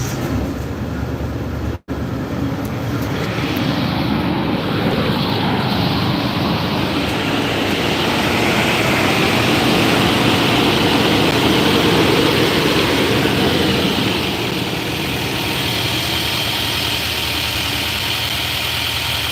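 A Nissan NV3500 van's engine, left unstarted for two years, runs loud and steady at close range after a brief dropout near the start, a constant rough droning idle throughout.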